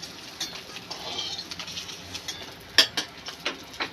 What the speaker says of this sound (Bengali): মাছগুলো আমি এইরকম লাল লাল করে ভেজে নিয়েছি, এইবার তুলে নেব।